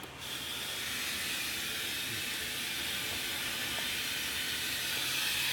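A Danby portable dishwasher fills with water, giving a continuous, even hiss of rushing water that starts abruptly and stays steady at close range.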